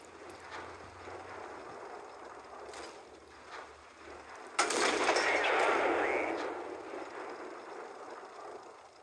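Gunfire from a modded E50M tank in an online tank battle game, a few faint distant shots followed by one loud near blast with a rumbling tail, over a steady background hum.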